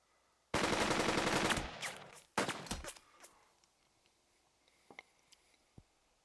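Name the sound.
gunfire in the video game Burden of Command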